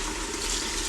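A steady gush of water poured for beef and vegetable soup, dense and continuous, close up and moderately loud.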